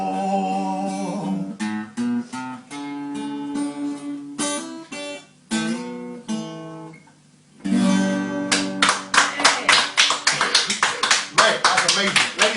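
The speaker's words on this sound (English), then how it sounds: "Round of applause." A small group claps after a live acoustic guitar song at a casual gathering over wasabi prawns. Someone talks loudly at first, then brisk clapping rises in the last few seconds.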